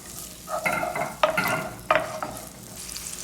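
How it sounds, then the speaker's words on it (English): Onions and pimentos sizzle in a pan for a potato au gratin, a close, soft crackle broken by a few sharper bursts as the pieces are stirred. "In goes the onions and the pimentos."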